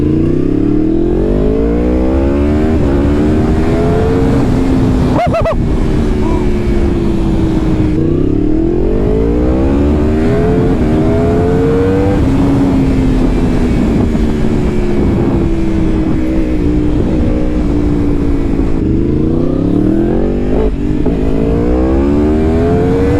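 A Yamaha R1 sport motorcycle accelerates below full throttle, loud and close, its engine note climbing repeatedly through rising gear pulls with brief dips at each shift, over constant wind rush.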